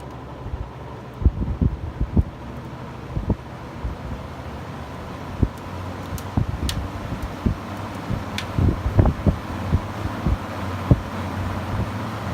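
A 20-inch Ilg high-efficiency ventilating fan runs with a steady low airy whoosh and hum, broken by scattered sharp clicks and knocks, with no talking.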